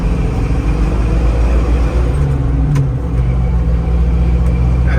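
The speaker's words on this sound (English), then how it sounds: "Great sound through those exhaust pipes, dual exhaust pipes." A 1974 Ford Bronco's 302 V8 pulls hard through its dual exhaust pipes, a loud, steady, close rumble that keeps climbing under load without a break.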